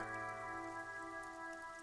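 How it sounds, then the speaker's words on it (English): Steady rain falls in Disco Elysium, a continuous soft hiss of drops layered over a sustained tonal ambient drone, with no voices. "Rain falls down on the world."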